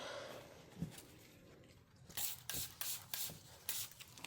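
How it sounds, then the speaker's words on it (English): Alcohol is sprayed from a bottle to clean a work surface, with about five short, hissing bursts in quick succession after a quiet start with faint handling noise. "And spray it with alcohol."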